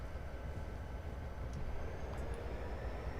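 The cab of a locomotive in Train Simulator 2012 sways as it gathers speed. A faint, steady low rumble of the train on the track runs throughout, with soft knocks and no voices.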